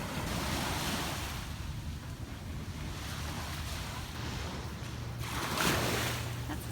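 Waves washing onto the shore, a continuous rushing surf with wind buffeting the microphone, swelling and easing as water rolls in, with no voices.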